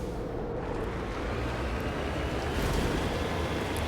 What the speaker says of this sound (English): Looks like it's a windy planet here. Windy and dry.